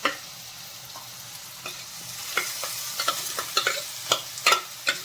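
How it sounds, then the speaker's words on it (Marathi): Finely chopped onions frying in hot oil for egg bhurji, a continuous close sizzle broken by scattered crackles and the scrape of stirring, with no voices. "आता आपण जे पण बारीक कट करून घेतलेले कांदे आहेत ना सर्वात ह्याच्यामध्ये ॲड करूया"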